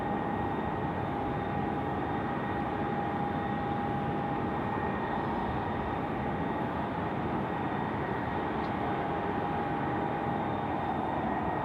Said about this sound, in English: Wow, that Qantas freight now coming out, looking magic.